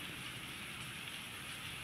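Steady, dense hiss of heavy rain falling on a surface in Singapore, continuous and even throughout with no voices.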